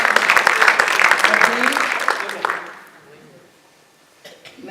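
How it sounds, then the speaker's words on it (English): An audience at the Spirit of Humanity Forum in Reykjavik, 2012, bursts into dense, loud clapping that carries for a couple of seconds, then fades out into near quiet with a faint stir at the end. "so this is something to applaud about"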